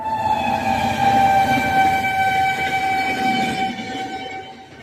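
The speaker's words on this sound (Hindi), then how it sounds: "ये बराबर में रेल जा रही है भाई" A train rolls past right beside a road, its steady rumble close and loud, with a long sustained horn tone sounding over it for several seconds before it begins to fade.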